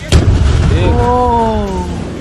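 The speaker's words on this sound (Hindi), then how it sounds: "लेकिन तभी जोरदार धमाका होता है" A sharp, loud blast bursts out at the start and rumbles off, followed by a shouting voice.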